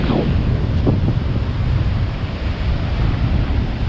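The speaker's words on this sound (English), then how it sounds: "this is the biggest wind I've felt in Thailand for 2 or 3 years" Strong wind buffets the microphone on a beach in Thailand, a loud, continuous roaring rumble with possible surf beneath, steady throughout and with no voices.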